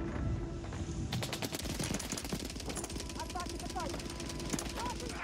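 Rapid automatic gunfire in Call of Duty Warzone, a steady stream of close shots rattling alongside game voice lines and background rumble.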